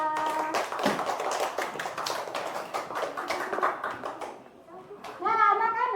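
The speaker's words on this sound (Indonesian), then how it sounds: "Berikan tepuk tangan untuk kita." A school class claps its hands together in a quick burst of tapping slaps that trails off, with children's voices chattering over it and someone speaking near the end.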